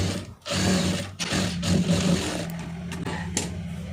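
A sewing machine runs in steady bursts while stitching the folded neckline of a blouse. The motor whirs close and fairly loud, with short pauses between runs.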